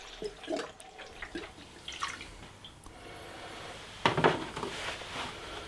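Engine coolant bubbling and gurgling in the filler neck of a running car engine as air is purged, with irregular drips and splashes, growing briefly louder near the end, close by and with no talking.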